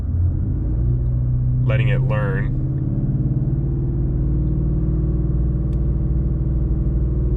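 A 2020 Mustang GT V8 running an E85 flex-fuel tune idles with a steady low rumble and takes a couple of brief revs, close and continuous, while someone talks over it.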